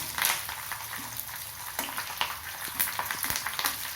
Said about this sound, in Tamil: நல்லா வறுத்து எடுக்கலாம் முறு முறுன்னு வர மாதிரி வறுத்து எடுத்துக்கணும்